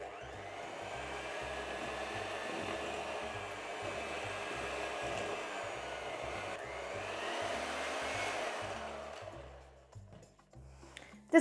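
An electric mixer whirs steadily through cookie dough with salt and baking soda, holding one even drone for about ten seconds before cutting off.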